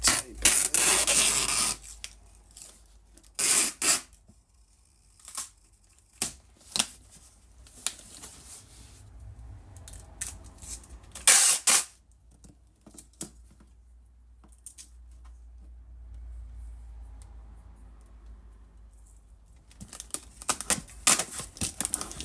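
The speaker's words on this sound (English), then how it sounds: "I'll just put a little bit of tape" Strips of tape are pulled and pressed over openings on servo drive equipment, giving scattered rubbing and tearing bursts with quiet pauses between them. No one speaks.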